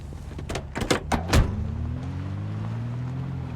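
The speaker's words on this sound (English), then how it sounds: "The door sound is repetitive." Repeated door sounds in the video game Project Zomboid, several sharp clunks and rattles in quick succession, then a steady low engine hum carrying on alone.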